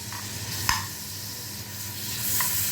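Half a grated onion sautéing in a little ghee in a pan, a close, steady sizzle with faint scraping from stirring and a couple of sharp clicks.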